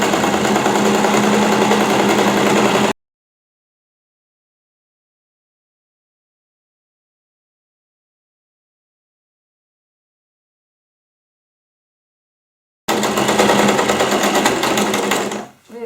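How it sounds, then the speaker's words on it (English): A sewing machine stitches a recycled jeans pocket bag, loud close whirring for about three seconds, then a long silence, then another steady run of stitching that slows and stops. "So we're going to sew from here, there, and all the way till here, starting and finishing with a back stitch."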